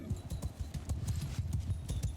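Horses gallop in a Mount & Blade II: Bannerlord battle, a dense, steady clatter of many hooves pounding close and loud with no talking.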